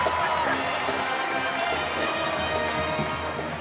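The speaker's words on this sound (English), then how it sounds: "the crowd here rising, making more noise" A crowd at a women's college volleyball match, Rice against Baylor, roars in a steady, sustained swell of cheering and shouting, filling the arena at a constant, fairly loud level.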